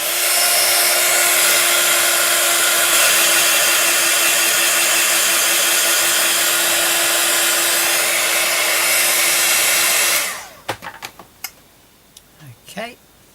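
A hair dryer blows steadily and loudly over a mixed media canvas made with moulds, a constant whooshing drone for about ten seconds, then clicks off, leaving scattered light handling knocks.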